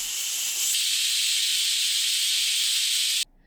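A loud, steady jet of steam hisses forcefully from a pressure cooker whistle for about three seconds, then cuts off abruptly.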